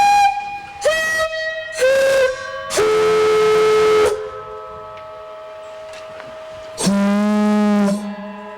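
An air-powered ship whistle salvaged from a fireboat sounds in a series of loud, close toots, several short blasts followed by longer sustained ones, with a hissing tail between them.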